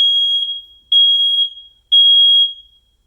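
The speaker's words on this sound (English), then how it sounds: "Testing smoke." Nest Protect 2nd generation smoke and carbon monoxide detector sounding its smoke alarm test: three loud, piercing high-pitched beeps in an even rhythm, each lasting most of a second, with nothing else audible.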